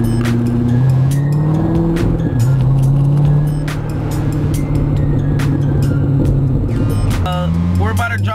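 A Corvette sports car drives with a loud, steady engine drone, shifting pitch as it accelerates, heard from close by with people talking over it.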